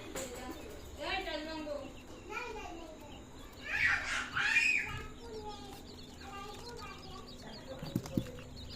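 Quail chicks chirp in a brooding room, with a brief burst of high, rapid peeping in the middle. People talk quietly around the chicks.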